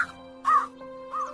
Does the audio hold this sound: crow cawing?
yes